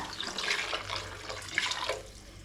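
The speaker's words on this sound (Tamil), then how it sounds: "இப்போ வந்து எக்ஸ்ட்ரா கொஞ்சம் தண்ணி சேர்க்குறேன்" Extra water pours into a pot of okra tamarind curry (vendakkai puli kulambu), a close, continuous splashing trickle that runs for a couple of seconds with slight surges and no talk.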